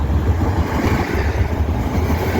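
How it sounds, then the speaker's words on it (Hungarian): A KISZ suburban train rushes past at high speed, heard as a loud, continuous roar and rumble with wind buffeting, steady from start to end. "jön egy KISZ nagy sebességgel"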